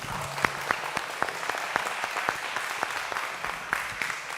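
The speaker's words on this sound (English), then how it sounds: "A round of applause for Waterloo, please." A small audience at a technical conference claps after a presentation on an active altitude control system; the sparse, distinct claps are steady and moderately quiet, with no talk.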